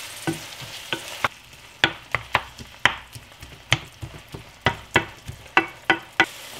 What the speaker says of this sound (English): Getting this ground beef brown.